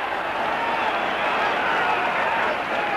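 Dewsbury fans in a rugby league stadium during a cup match against Leeds, a constant broad roar of crowd noise, loud and steady, with voices mixed in throughout.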